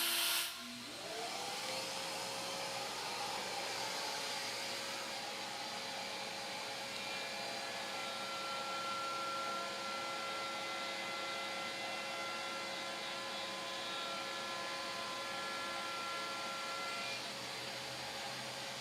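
A router bit cuts a tapered sliding dovetail through a wooden workpiece, a steady, loud, continuous whine and hiss that starts up abruptly and holds evenly for the full run with no talking.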